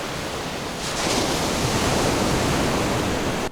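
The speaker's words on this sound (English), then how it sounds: "Let's add some waves and wave crashes sounds." Steady roar of ocean surf, a broad wash of breaking waves that swells a little louder partway through, with no voices.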